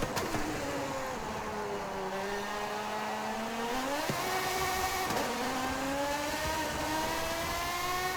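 A Lamborghini sports car engine in Forza Horizon 5 roars steadily and revs higher, with a couple of brief dips like gear shifts, continuous and up close.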